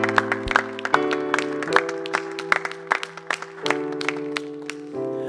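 Church congregation applauding to acclaim the Lord, a steady patter of many hands clapping over sustained organ or keyboard chords.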